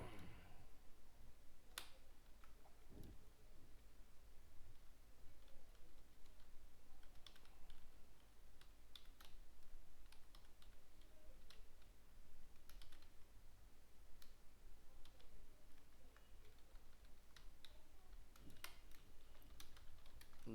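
Someone types PHP for-loop code on a computer keyboard, producing steady quiet clicking and tapping with occasional sharper key strikes over a faint background hiss.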